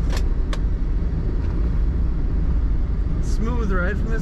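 A 1978 Ford Pinto Wagon driving on the road, its low steady engine and road rumble filling the cabin, with someone talking over it throughout.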